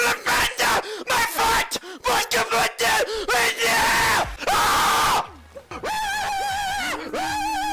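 A compilation of a streamer screaming plays over the stream, harsh repeated yells and wails in choppy bursts, loud and distorted, followed by sustained warbling shrieks near the end.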